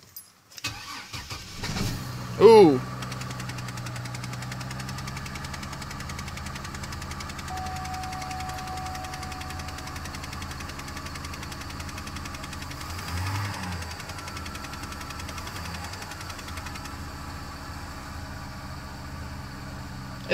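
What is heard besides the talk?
2002 Chevrolet Trailblazer engine cold start, running rough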